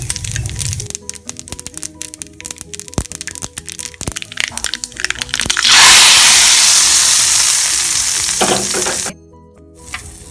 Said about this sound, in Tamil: கடுகு தாளிக்கணும்